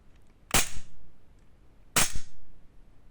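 Two sharp, loud shots from a Sig Sauer P320 Wilson Combat gas airsoft pistol, about a second and a half apart, each a crisp pop followed by a brief mechanical rattle, close by with no talking.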